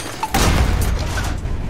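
Gunfire in the tank game War Thunder as shooting continues at an airfield: a sharp burst hits, then a dense, rumbling roar carries on loudly to the end.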